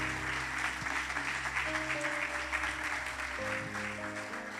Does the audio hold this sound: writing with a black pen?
no